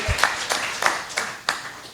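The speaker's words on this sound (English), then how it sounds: "You can clap." A few scattered claps from a small audience at a panel discussion in Houston, four or five separate hand strikes spaced about half a second apart, fairly close and moderate in volume.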